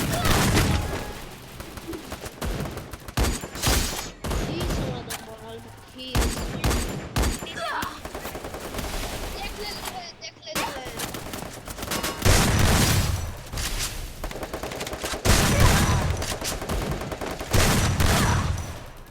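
Sniper rifle shots ring out in a video game training ground, sharp loud cracks in irregular clusters with brief gaps, and a voice talking at times between them.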